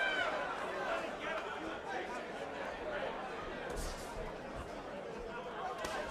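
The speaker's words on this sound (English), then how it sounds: "Crowd drawing impatient." An impatient crowd at a ballroom boxing event murmurs and chatters in a steady, continuous babble, with a commentator's voice running over the hubbub.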